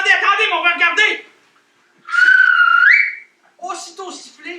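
A storyteller imitates a small magic whistle with his voice, a rising sustained whistle-like tone between bursts of animated vocalizing and chuckling.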